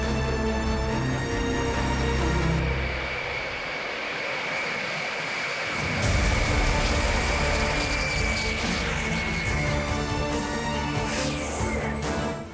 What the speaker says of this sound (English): It's a homemade jet engine.